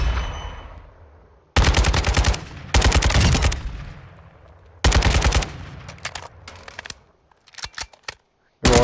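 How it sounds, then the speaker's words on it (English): An AK rifle in Modern Warfare II fires 7.62 rounds in several loud, sustained full-auto bursts, close up, with pauses between them and a few single shots at the end. "So this is your full AK platform."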